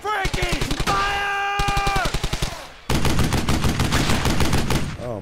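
Rapid gunfire from the World War II shooter Brothers in Arms: Hell's Highway, loud and close, in dense bursts and sustained automatic rattles with sharp rhythmic cracks, broken by a short lull before a heavier final volley.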